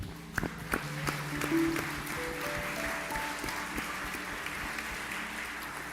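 Church congregation applauding during a worship service, a soft, steady patter of clapping at moderate distance with a few sharper claps early on and faint tones underneath.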